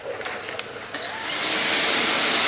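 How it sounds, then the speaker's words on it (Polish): A household vacuum cleaner runs in a home, a steady broadband whir that swells and grows louder after a second, with faint clicks and handling noises at the start. "mama chce pokazać, jak odkurzacz działa."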